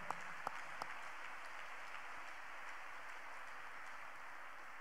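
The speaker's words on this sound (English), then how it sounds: "Let's clap unto God and appreciate him." Congregation at a church service clapping together, a steady, fairly faint wash of many hands with a few sharper claps standing out near the start.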